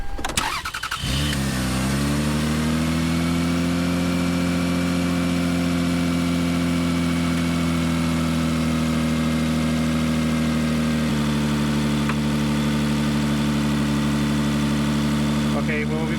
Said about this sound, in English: Okay, let's start it one more time.